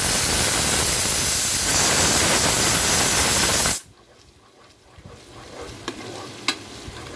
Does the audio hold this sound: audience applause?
no